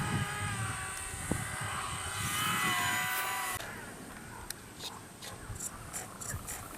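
A small phone-controlled remote-controlled model airplane's propeller motor whines and rises in pitch, then fades into the distance, followed by faint ticking and outdoor background noise.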